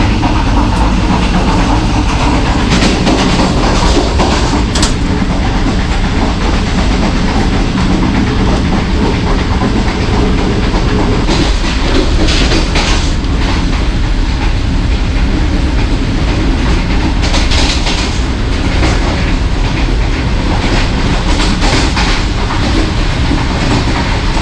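An early-morning passenger train runs at about 70 km/h past a station, heard from inside an air-conditioned parlour car: loud continuous rumble with rhythmic clickety-clack of wheels over rail joints throughout.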